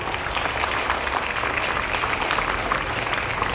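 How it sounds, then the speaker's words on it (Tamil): Steady, dense applause from an audience at an Independence Day celebration, loud and continuous for a few seconds with no talk over it. "அனைவரும் கரவொலியுடன் பாராட்டுவோம்"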